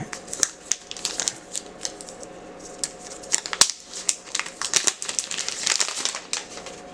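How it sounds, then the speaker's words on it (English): Protective plastic film peeled off a new Bold N1 smartphone, giving close, steady crinkling and crackling with quick sharp snaps throughout. "let's go ahead and get this plastic off"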